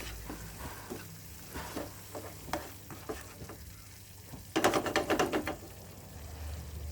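Mie gomak noodles cooking in a pan, with a steady low sizzle under scattered scraping and clicking from a utensil, then a short run of brisk rapid stirring knocks close by.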